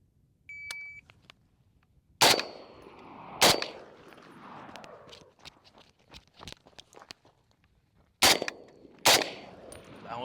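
A Springfield M1A rifle fired outdoors, four loud, sharp reports in two pairs a second or so apart, with an electronic timer beep at the start and quieter clatter and movement between the shots.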